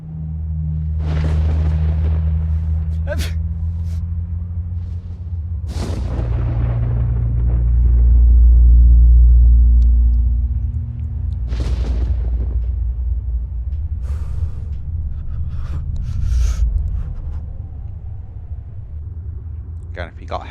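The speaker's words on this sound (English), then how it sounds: "There's the storm." A storm rolls through the Namalsk map of the video game DayZ, with loud, sustained low rumbling that swells to a heavy peak midway, broken by sharp crackling bursts, while someone talks over it.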